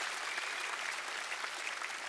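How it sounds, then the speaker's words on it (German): A church congregation applauds during a German-language sermon on biblical finance principles, with steady, dense clapping from many hands filling the whole stretch at moderate level, with no speech over it. "Aber lasst uns mal Gott einen Applaus geben für die Finanzen, die Gott uns anvertraut hat."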